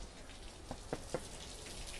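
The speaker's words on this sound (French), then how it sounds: "Ah ben tu vois il pleut" Rain falls steadily outdoors during a live outdoor broadcast, a constant soft hiss with a few distinct drops landing close by.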